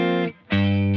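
A dry 1980s-style electric guitar tone from a Kemper Profiler with the reverb off, two sustained distorted chords with a short gap between them, loud and close.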